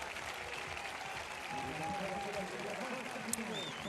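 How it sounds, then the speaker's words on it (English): A stadium crowd at the Mediterranean Games gives a women's triple jumper a sustained round of applause, a steady distant wash of clapping with a commentator talking over it. "That crowd still giving Majidedin Ghazal a huge round of applause"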